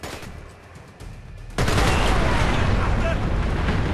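Dense gunfire rattles through a Splinter Cell: Conviction firefight, loud and continuous, with a sharp surge about halfway through into a sustained wall of shots and blasts.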